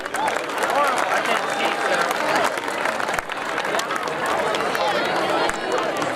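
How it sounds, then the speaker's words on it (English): Crowd applause at a school community event, a broad sustained clatter of many hands with cheering and chatter mixed in, steady throughout apart from a brief dip near the middle. "Mr. Ute, let's give him a round of applause, everyone."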